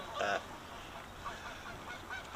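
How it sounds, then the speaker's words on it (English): Geese honking off an island, a faint cluster of nasal honks at the start, then scattered quieter calls over soft outdoor ambience. "A lot of noise off the island for the geese."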